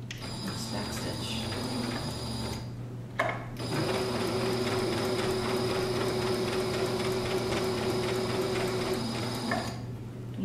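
A sewing machine backstitches a throw pillow seam made from a tablecloth, a steady rapid mechanical whir with a short pause partway through before the motor runs on again, close and loud.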